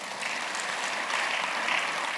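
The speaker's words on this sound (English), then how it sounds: "I think you deserve a round of applause for that." A short stretch of steady crowd applause at a Lagos political address, a dense, even wash of clapping heard a little distant and without speech.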